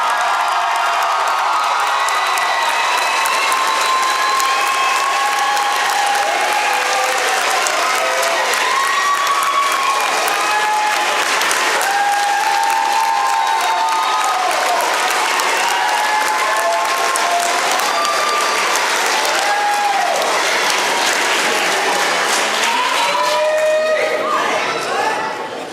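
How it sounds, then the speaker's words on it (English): Sustained, loud applause from a large audience at a December 2017 academy graduation ceremony for the fall class, with scattered cheers and whoops over steady clapping throughout. "may we present for a final round of applause the Academy's graduating fall"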